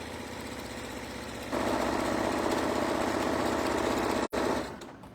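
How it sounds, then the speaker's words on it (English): A sewing machine fitted with an HP foot back stitches through vinyl for a shoe bag, a close mechanical whir that speeds up partway through, runs steadily, breaks off for an instant, then slows to a stop. "Sewing through the vinyl using the HP foot, no problem."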